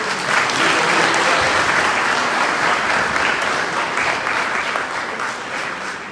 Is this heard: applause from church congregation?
yes